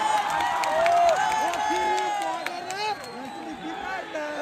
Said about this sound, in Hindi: अपने शहर के लिए एक बार जोरदार ताली मारो